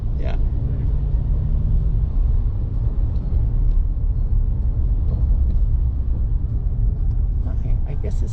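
Road traffic rolls past at five o'clock, a steady low rumble of cars with occasional louder passing vehicles. A person talks over it.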